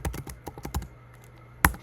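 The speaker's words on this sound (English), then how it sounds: "as I typed pipe enable" Quick bursts of computer keyboard typing entering a pipeline-enable command, a rapid cluster of keystrokes followed by a pause and one sharp final key tap, close and clear.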